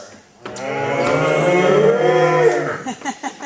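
A single long, loud cow moo, close and drawn out for about two seconds, followed by a few short huffing sounds.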